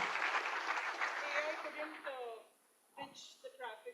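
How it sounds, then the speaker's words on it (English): Audience applause at an AI summit welcoming a speaker, a short burst of many hands clapping that fades after about two seconds, followed by voices speaking. "Let's welcome her. Round of applause."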